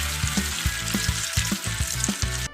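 Potatoes fry in oil in a pan, giving a close, busy sizzle with rapid crackling pops throughout, and no voices over it.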